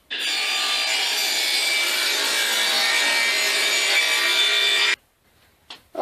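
A saw trims the edge of a wooden decorative sword blade after the blade is lowered and the fence reset, a loud steady cutting whine lasting about five seconds before it stops abruptly, leaving near silence and a couple of faint knocks.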